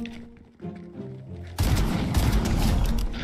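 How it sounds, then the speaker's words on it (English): After a quiet tonal opening, a loud, dense burst of rapid gunfire erupts and keeps going, shots overlapping in a continuous barrage. "Oh, I hear gunshots."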